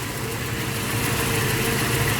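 A Toyota 4Runner engine idles at about 800 RPM after warming to operating temperature, a steady close low-pitched rumble with a slight pulsing rhythm and no voices.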